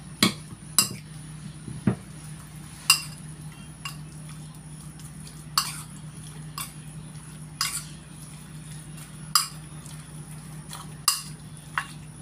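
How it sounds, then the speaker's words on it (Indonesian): A spoon stirs a spicy eggplant and chicken dish in a pan, giving sharp, irregular clinks and scrapes every second or two over a steady low kitchen hum, with no talking. "kemudian aku aduk-aduk ya"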